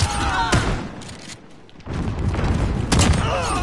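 Loud, close bursts of shotgun fire from Call of Duty: Modern Warfare, sharp booming blasts with a brief lull in the middle, heard against game sounds.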